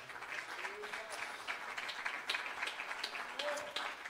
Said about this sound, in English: Why don't we give the Lord one more great hand clap in this house tonight?